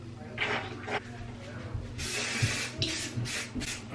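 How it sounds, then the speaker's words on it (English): A few short hissing bursts of hairspray sprayed on hair over a soft musical background, with quiet gaps between the sprays. "Just spray every hair product I have on it, I guess."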